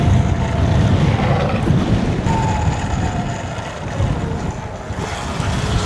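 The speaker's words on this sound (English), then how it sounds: "It is so windy right here." Strong tropical storm wind roars and buffets the microphone continuously, a loud low rumble with gusty surges throughout and no voices.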